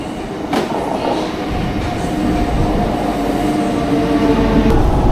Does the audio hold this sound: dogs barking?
no